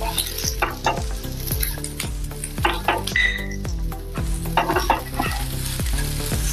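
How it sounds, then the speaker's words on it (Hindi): Green chillies fry in a pan with ginger and garlic, a steady close sizzle broken by regular scraping stirs and light utensil clinks against the pan, with no one speaking. "हमने अदरक और लहसुन को 1 मिनट भून लिया है। अभी इसमें हम बाकी के सब्जियां डालेंगे। तो पहले हम हरी मिर्च डाल देंगे।"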